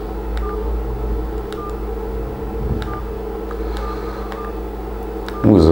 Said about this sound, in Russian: Ну и также тон клавиш.